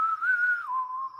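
A person whistles a single sustained tone that rises slightly, then drops to a lower steady pitch, close and clear with no talking.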